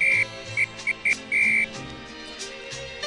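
A rugby referee's whistle during a France vs Ireland Six Nations match gives a string of short sharp blasts, several quick toots then a longer one, loud and clear over faint background.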